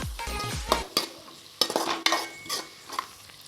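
A spoon stirs masala in a pan and leftover rice is added for pulao: soft scraping and clinking strokes against the metal, a few sharper knocks, and a light sizzle underneath, close up and quiet, with no talk.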